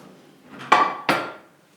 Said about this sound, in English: what we're going to do is serve that up on a plate